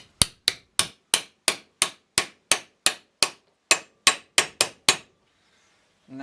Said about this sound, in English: just get the hammer, put the socket over it